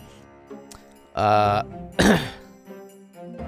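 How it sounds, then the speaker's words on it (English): A person clearing a hoarse throat, with two short, loud, rough bursts close to the microphone separated by brief quiet. "Trying to, like, clear my throat."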